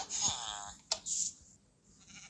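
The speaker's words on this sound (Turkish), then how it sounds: "Burada zaten sınırsız koyun var." Synthetic sheep bleats from a Minecraft-style farming game, a wavering baa followed by a couple of shorter bleats, clear and moderately loud with no talking.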